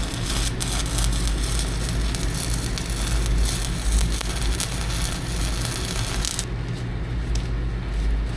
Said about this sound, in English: stick welding. Good practice for me.